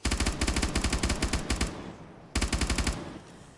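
P90 submachine gun fire in 7 Days To Die comes in loud, rapid automatic bursts: a long burst of about a dozen shots, a short gap, then a second shorter burst, with no talk.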